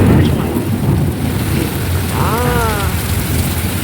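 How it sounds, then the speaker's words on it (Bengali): A heavy downpour roars steadily with deep rumbling underneath, like thunder in a storm; a brief wavering tone rises midway. "বিশাল ঝড় বৃষ্টি হচ্ছে বিদ্যুৎ চমকাচ্ছে"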